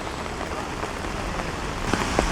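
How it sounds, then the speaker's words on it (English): Steady rain falling on pavement and parked cars at a lakeside classic car show as vehicles are loaded up, a dense even patter with a few sharper drips standing out, close and continuous. "even the prototypes are left in the rain"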